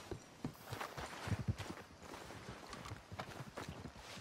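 Horse hooves clip-clop in the Red Dead Redemption 2 game, a steady walking rhythm of soft thuds at moderate level over a background wash of ambient sound.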